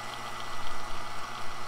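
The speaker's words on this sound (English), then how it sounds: "when you reduce the outside pressure, you can boil at a lower temperature" Continuous bubbling and churning of cool water boiling under reduced pressure, a dense, close rumble with a faint steady hum underneath.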